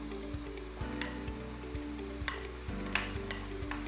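Cassava pieces crackle and sizzle in a hot pan, a steady close fry with a few sharper ticks and pops scattered through it and no talking.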